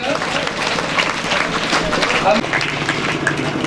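Applause welcoming a speaker at a retirement function, steady clapping throughout with crowd noise and voices mixed in.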